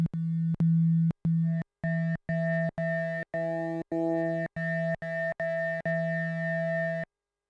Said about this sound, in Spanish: cambiamos a la tabla de onda, por ejemplo, número 2, que son sonidos campanosos.